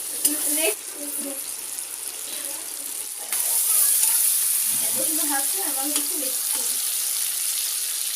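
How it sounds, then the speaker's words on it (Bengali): Tomatoes sautéing in a pan for chickpea dal give a steady, close sizzle throughout, with brief voices in the background. "এবার ছোলার ডালটা বসিয়ে নিচ্ছি তাই টমেটোটা কষিয়ে নিলাম"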